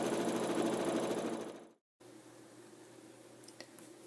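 A sewing machine stitches quilting fabric for a flower block, a fast close mechanical whirr with a rhythmic needle pulse that runs steadily, then stops abruptly, leaving a quiet room with a few faint clicks.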